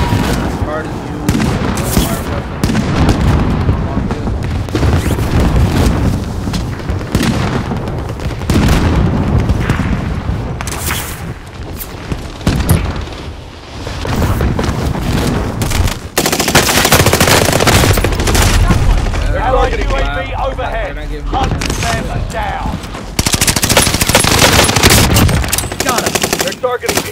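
Rapid automatic fire from the Whitley gun in a shooter game, long dense bursts with booming impacts and brief gaps, loud and close throughout.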